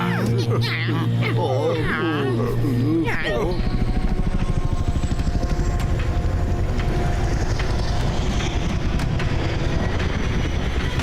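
Steady rhythmic cartoon helicopter rotor chop, loud and continuous, with a voice speaking Tamil over the first few seconds before the thumping beat carries on alone.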